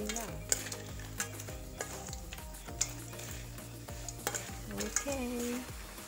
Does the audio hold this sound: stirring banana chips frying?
yes